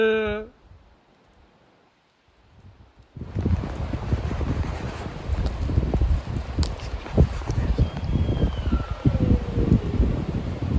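Wind swirls through Kaimanawa Forest Park in New Zealand, near silent at first, then rising into a rough, gusting rush that buffets the microphone for the rest of the stretch.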